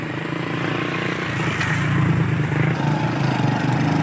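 A tractor engine runs steadily nearby while repairing a village road in Azad Kashmir, a continuous rumbling drone with no pauses.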